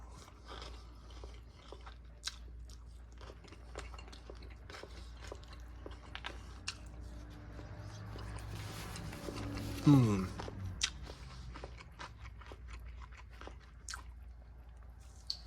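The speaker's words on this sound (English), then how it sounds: "I'll get a big bite of rice, chicken, and peanuts, and fried little fishies." Close, quiet chewing of a mouthful of Malaysian ration nasi lemak with rice, chicken rendang, peanuts and fried little fish, soft wet mastication with occasional crunchy bites and one louder crunch near the middle.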